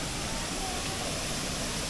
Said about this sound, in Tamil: பயங்கரமாக ஊற்றுது தண்ணி ரொம்ப ஃபோர்ஸாக இருக்குது